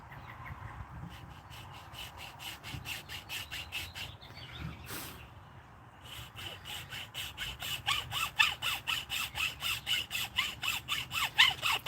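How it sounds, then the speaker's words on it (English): Hand filing with a round chainsaw file, rapid rhythmic rasping strokes that pause briefly midway, then resume faster and louder in a steady back-and-forth scrape, close by. "Get yourself one of these chainsaw files. They work fantastic for this."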